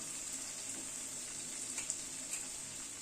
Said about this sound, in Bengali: মিনিট 2 সময় ধরে মশলাটাকে কষিয়ে নিলাম।